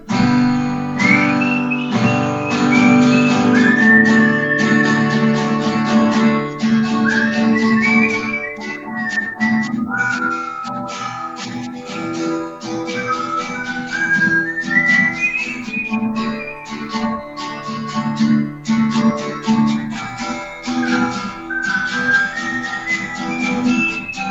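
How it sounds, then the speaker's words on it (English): A person whistles a wandering melody over background music, the tune rising and falling steadily throughout at a fairly loud level. "while I'm whistling"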